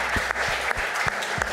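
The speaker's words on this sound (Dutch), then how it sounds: "Geef hem nog één keer een applaus." Audience applause at a media talent award ceremony: continuous, close clapping from a crowd, with a few louder low thumps punctuating the steady patter.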